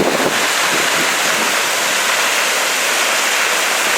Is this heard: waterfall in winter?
yes